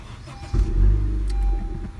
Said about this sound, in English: I'm gonna go ahead and start up the car just for now.